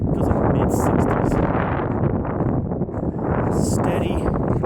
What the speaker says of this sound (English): Steady drizzle, fairly windy.